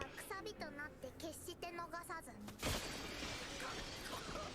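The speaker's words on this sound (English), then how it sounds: "Oh my gosh, it's shattered like glass, his whole body." Talk in the first half, then a sudden loud crash like shattering glass, followed by a scattered, hissing spray of debris.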